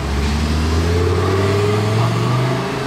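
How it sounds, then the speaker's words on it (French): A Lamborghini Huracan Sterrato passes close by on Monaco streets during the Grand Prix weekend. Its engine gives a loud, sustained roar with a rising drone that slowly fades, set against city noise. "Lamborghini Huracan Sterrato."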